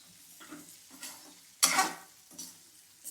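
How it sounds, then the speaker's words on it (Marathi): Okra frying in oil in a pan, with a soft sizzle and light stirring scrapes, plus one louder burst of sizzling midway through, close and with no voices. "आता भेंडी चांगली यामध्ये फ्राय होऊन द्यायची आहे"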